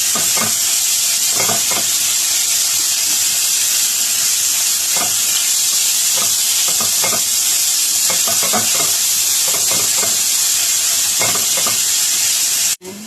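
Ground meat sizzling and frying steadily in a pan with garlic, with a constant bright hiss and repeated stirring scrapes throughout, loud and close, for palabok sauce.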